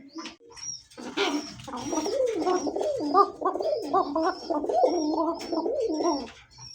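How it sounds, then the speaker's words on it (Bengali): A pigeon coos nearby in repeated throaty phrases, a rolling series of low calls lasting several seconds with faint chirps above. "অরিজিনালি সেরকম ভাবে ডাকতেছে বাঘ বাকুম বাঘ বাকুম করে।"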